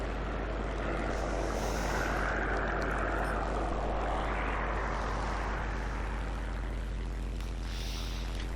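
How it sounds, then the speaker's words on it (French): Propeller engine of a TBD-1 American bomber plane in a video game, a continuous steady drone with a low hum and faint airy swells, no speech. "TBD-1, ça c'est un bombardier américain."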